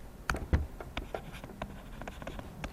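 Marker or chalk writing on a classroom board, a quick series of short scratchy strokes and taps at close range, with no talking.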